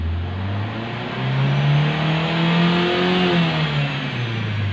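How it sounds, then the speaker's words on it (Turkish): A Renault Megane 4 engine revved while parked after an injection fault repair, a loud close engine note rising and holding, then easing back down. "Gaza bastığın zaman da şu kırmızıya gelmiyorsun abi. Beşi geçmiyorsun."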